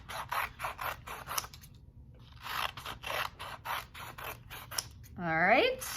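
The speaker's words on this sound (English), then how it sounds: "I'm gonna cut both of them at the same time, and now I'm getting all of these strips of green and red paper." Scissors snip repeatedly through strips of green and red paper, cutting both sheets at once, with quick clustered crisp cuts, a short pause, more snips, and then a rising metallic squeal at the end.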